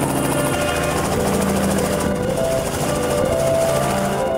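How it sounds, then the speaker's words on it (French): A helicopter giving joyride flights at a customer party with buffet drinks, its rotor and engine roaring loud and steady throughout with a continuous chopping drone. "des baptêmes de l'air en hélicoptère qui étaient très appréciés par les clients"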